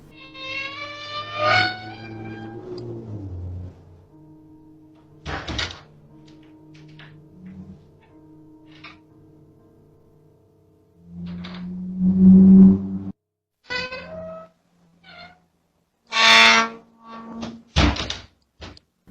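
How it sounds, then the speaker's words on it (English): An attic door swings on its own, with scattered dull thunks and knocks set against long near-silent gaps. Creaky, echoing tones and a heavier low bump appear partway through, with sharp knocks near the end. "The door moves by itself"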